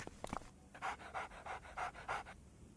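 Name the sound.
dog panting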